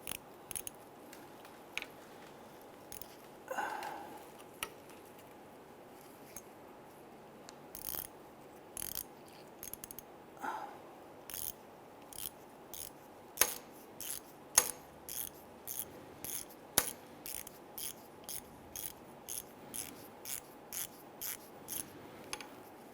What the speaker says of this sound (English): I'm going to go ahead, loosen and remove this nut here.